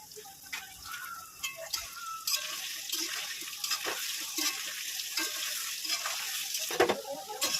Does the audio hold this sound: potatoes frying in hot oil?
yes